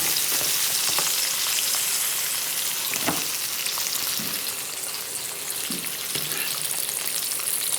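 Broccoli steaks fry in a pan over medium heat, giving a steady, loud hiss and sizzle with occasional pops and crackles throughout.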